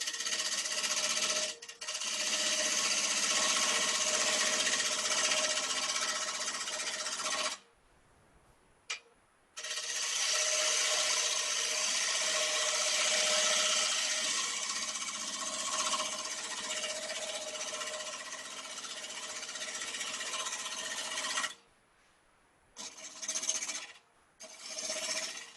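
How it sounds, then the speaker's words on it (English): Bowl gouge cutting a bandsaw-cut wooden bowl blank on a lathe, rounding it off: a loud continuous rasping scrape in long passes, broken by short pauses between cuts. "the first thing I'll do is just round it off with my bowl gouge"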